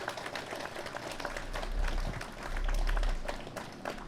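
Wedding guests clap for the newlyweds, a moderate, fairly steady round of applause that swells twice, heard from within the room, with murmured voices underneath.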